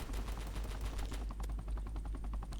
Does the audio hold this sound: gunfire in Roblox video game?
yes